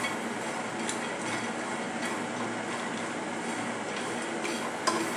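Dry ingredients for energy bars roasting in a pan while being stirred constantly, a steady dry rustling and scraping with faint sizzle running evenly throughout, close and moderately quiet with no talking.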